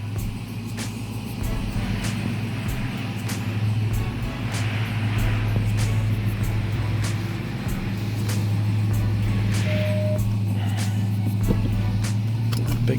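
A Ram TRX pickup truck on large 35-inch tires, fitted with big tow mirrors, drives with a steady low engine and road rumble throughout, close and continuous with no talking.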